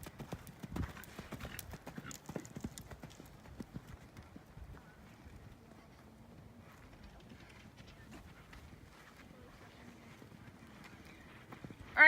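Horse hooves clip-clop at a steady forward gait in a riding arena, fairly distant and soft, continuing throughout with faint background voices.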